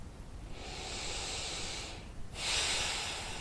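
A deep breath taken during a calm emotional-release tapping session, a long airy inhale followed by a brief pause and then a fuller, louder exhale, close and alone with no talk.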